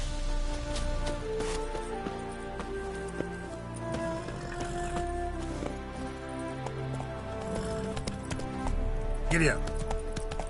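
A horse gallops in the Skyrim video game with graphic mods, its hoofbeats rapid under layered game ambience and a continuous music bed, with a sharp effect burst near the end.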